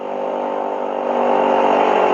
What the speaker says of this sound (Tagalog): Nagpapainit pa nga lang tayo ng makina eh.